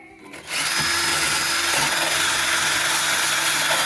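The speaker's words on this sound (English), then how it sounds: "Obviously, I'm going to get my corded drill" A corded power drill, used on a Morris Minor driver's door, starts after a brief pause and runs steadily at high speed, loud and close, with a continuous whining grind.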